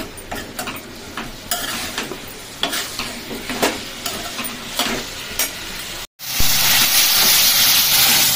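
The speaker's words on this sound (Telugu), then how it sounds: "ఇప్పుడు వంకాయలు మంచిగా నూనెలో మగ్గిచ్చేస్తా." Eggplant pieces cooking in hot oil in a home kitchen pan, with a steady sizzle broken by scraping stirs, then a brief cut into a louder, brighter hiss of frying, close and with no talk.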